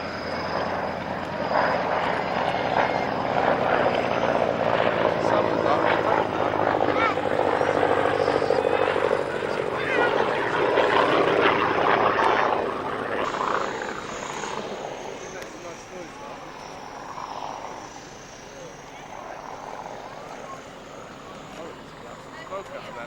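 A Yak 11 warbird makes a final flying pass at an airshow, its engine roaring loudly and steadily for about twelve seconds before fading away into the distance, with a commentator talking over it.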